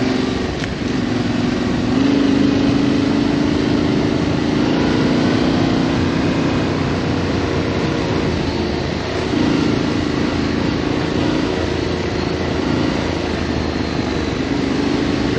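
A Yamaha T7 motorcycle engine drones steadily while riding on a dry trail, a continuous loud hum with wind rush that holds an even level throughout, with no speech.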